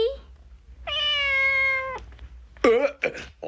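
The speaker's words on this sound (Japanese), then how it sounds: "おいおい、猫まで連れて行くんか？" A cat gives a short meow followed by a longer, drawn-out clear meow, then two or three quick higher meows, close and distinct over a faint low hum.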